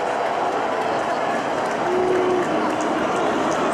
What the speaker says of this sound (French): S'il vous plaît, applaudissons Henri Loquet.